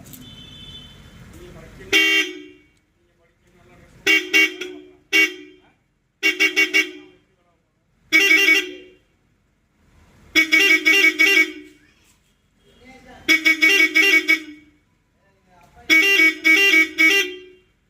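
A six-tone car horn plays repeated bursts of bright, blaring multi-note melodies, loud and close, separated by short pauses. A low rumble comes before the first blast.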